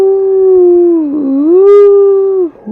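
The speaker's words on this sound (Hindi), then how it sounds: "आवाज़ें भी कुत्तों की आ रही थी" A dog's long, loud howl rises and sinks in a steady wavering tone at close range for most of the span, then breaks off near the end. No other sounds are heard.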